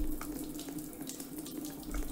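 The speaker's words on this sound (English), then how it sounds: "Need to find where the water is coming from." A tap left running in the Roblox game The Cursed pours a steady, hissing stream of water into a sink, constant and moderately loud with no talking.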